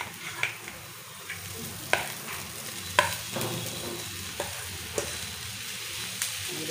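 Turmeric powder and boiled potatoes sizzle and fry in a pan, with steady low frying hiss punctuated by regular clinks and scrapes of a spoon stirring every second or so.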